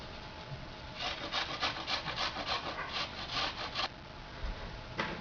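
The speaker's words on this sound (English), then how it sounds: "you can grate it using a fine grater. directly into your pan" A peeled ingredient is rubbed against a fine grater over a pan during chicken stir-fry prep, giving a close series of quick rasping strokes in a steady rhythm, then a pause and a final stroke.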